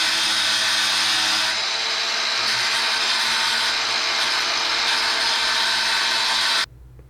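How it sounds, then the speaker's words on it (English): Power tool grinding or sawing to trim back aluminum bulkhead brackets on a Van's RV-7A experimental airplane build, a steady loud buzzing whine running continuously for several seconds before cutting off abruptly near the end. "we've got to trim those brackets back"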